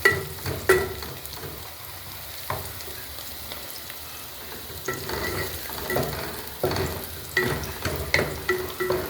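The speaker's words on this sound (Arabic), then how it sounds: "طبعا هنحمر البصله" Onion frying in ghee, a continuous close sizzle broken by repeated scraping stirs and light clinks of a utensil against the pan.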